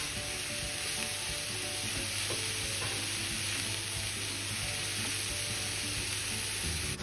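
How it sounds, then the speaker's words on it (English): Diced broccoli, cabbage and grated carrot stir-fry over high heat, a loud constant sizzle close up with occasional scraping from stirring, heard alone. "add diced broccoli, cabbage and grated carrot and stir fry them for at least for 5 minutes"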